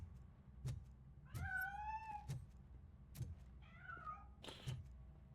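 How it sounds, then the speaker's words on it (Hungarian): Several plaintive cat meows from a stray cat in the video game RoboCop: Rogue City, spaced out over a few seconds against a low ambient hum, each call rising and falling, fairly close and clear. "That cat must be hiding inside. Let me lure it out."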